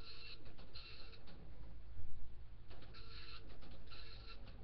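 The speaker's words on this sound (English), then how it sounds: "You can see how it's printing it side to side," A dot matrix printer prints a tattoo stencil, its print head rasping in bursts as it sweeps side to side, with short pauses between passes over a low, steady mechanical hum.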